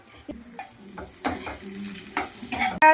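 Eggs stirred into french fries frying in a pan, crackling sizzle with scraping stirs and brief clinks of utensil against the pan, close up.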